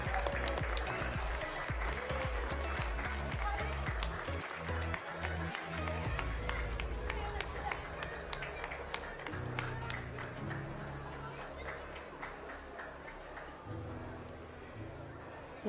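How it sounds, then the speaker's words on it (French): An audience at a dog show applauds Eurasier dogs with a sustained wash of many hands clapping, fairly distant and steady for about fifteen seconds, with a few heavier thumps early on. "Allez, on applaudit ces Eurasiers."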